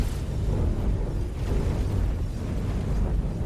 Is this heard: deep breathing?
no